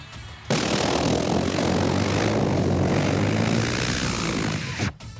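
A human voice mimics a train or helicopter with a loud, close, continuous whirring drone that starts abruptly, holds for about four seconds and then cuts off.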